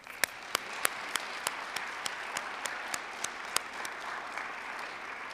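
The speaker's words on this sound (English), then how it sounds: "So another round of applause to our inductees." An audience at a school board meeting applauds inductees with steady clapping that fills the room, a few sharper individual claps standing out, and no voices on top.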